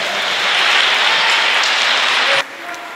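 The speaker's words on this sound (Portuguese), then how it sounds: "Se você crê nisso, aplauda ao Senhor agora" A church congregation claps together in sustained, dense applause at a Christian sermon, loud and steady for over two seconds before cutting off abruptly to a quieter tail.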